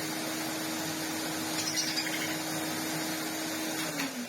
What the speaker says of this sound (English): I bet if I turn the vacuum cleaner on